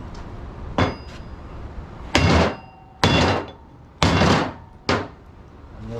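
A sledgehammer pounds a scrap transformer to break it apart for its copper: five or six loud, heavy metallic blows land at irregular intervals about a second apart, each followed by a brief ringing decay.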